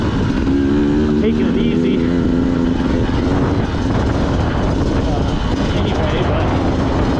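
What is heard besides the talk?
Beta 200 RR motorcycle engine revving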